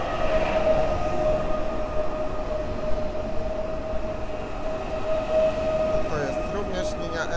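A PESA Elf electric multiple-unit train passes at Warszawa Zachodnia station platform in the evening, a loud continuous rumble and rail roar with a steady whining tone running throughout.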